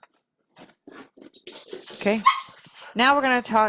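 Pet dogs bark, yip and whimper in short excited bursts in the background, moderately close, while a person talks over them.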